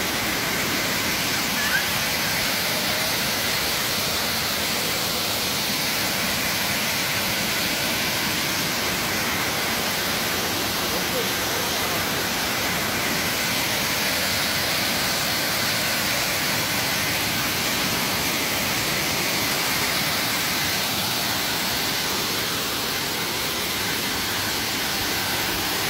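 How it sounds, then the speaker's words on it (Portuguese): Waterfall in Crato, Ceará, Brazil, running with lots of water: a dense, steady, loud roar that holds unchanged throughout, with no voices. "Muita água na cascata."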